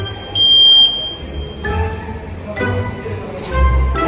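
A security check alarm sounds a short high electronic tone at the start, followed by faint bleeps amid a busy, echoing checkpoint hum.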